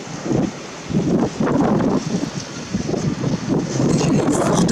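Strong gusts of a snow and sleet storm in Sallanches batter the microphone. Loud rumbling buffets rise and fall in bursts, with brief lulls between the blasts.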